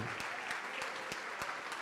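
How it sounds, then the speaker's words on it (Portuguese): A church congregation applauds steadily, a dense wash of clapping with a few sharper, louder claps standing out, sustained and fairly distant in a large room. "E vamos aplaudir ao Senhor Jesus por cada vida que está chegando."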